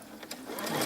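A sewing machine back stitching a Butterick dress runs in a brief, steady, rapid mechanical whir, rising slightly in loudness over about a second.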